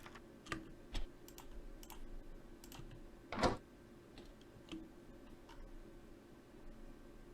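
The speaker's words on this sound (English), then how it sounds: "that's locking my door" A door locking in a redesigned Alien: Isolation soundscape, built from typewriter mechanisms: a short cluster of sharp mechanical clicks and a louder clunk near the middle, with scattered lighter taps around it, fairly close and dry.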